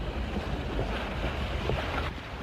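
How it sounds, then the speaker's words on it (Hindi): A cartoon sailing ship creeps slowly across the sea in light wind, giving a steady wash of water and breeze with soft creaks, moderately loud and unbroken, with no voices. "ये जहाज कितनी धीरे चल रहा है।"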